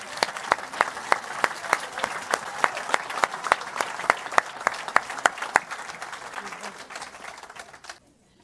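A church congregation claps steadily to acclaim the Lord, a fast, even run of sharp, loud hand claps that carries on for about eight seconds and then stops abruptly.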